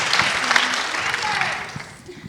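Audience applause at an annual event where children speak about the rights of children of incarcerated parents, a short burst of clapping mixed with a voice talking over it, fading toward the end.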